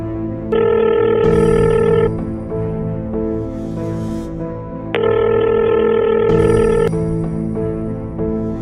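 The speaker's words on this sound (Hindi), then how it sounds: "स्काइलर आलोक के पास कॉल लगाता है।" An outgoing phone call rings on the line, two long ringback tones about four seconds apart, each clear and steady over a continuous music background.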